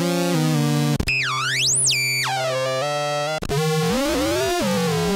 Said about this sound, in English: This is Yamaha CS, an analog modeling synthesizer,